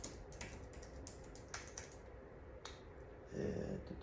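Quiet close keystrokes tap across a computer keyboard in short irregular bursts as a search is typed, with a low room hum underneath and no voices.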